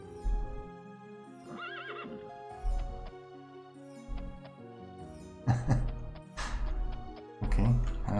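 A horse whinnies and snorts in the Daggerfall Unity video game, with hoof clip-clops and stamping in short bursts, clear and close against a steady game backdrop.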